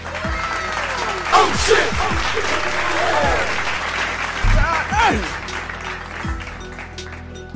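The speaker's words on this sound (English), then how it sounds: "round of applause for my man Zanel" Applause and excited crowd voices at a One Piece trading card game match, clapping running continuously under loud whoops and exclamations, with a person swearing in surprise.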